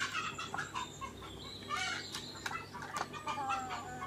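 A village-farm hen clucks while pecking at food, short clucks repeating irregularly among other faint chicken sounds at a poultry farm in Ratnagiri, with no one talking.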